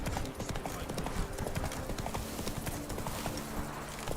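Geralt's horse Roach trots in Witcher 3, the clip-clop of hooves falling in a steady quick rhythm, close and continuous, with a faint bit of game ambience and a low voice briefly underneath.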